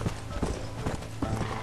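Horse hooves clop in a quick galloping rhythm in the video game Red Dead Redemption, four close, even beats over a low background rumble.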